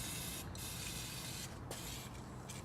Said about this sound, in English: take your brake cleaner, pinch it and get it inside of here. Give it a nice good clean